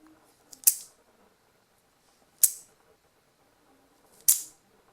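A sonic screwdriver prop replica for the 11th and 12th Doctors is flicked open three times, each a sharp, bright mechanical click-snap spaced about two seconds apart, close and alone against a quiet background.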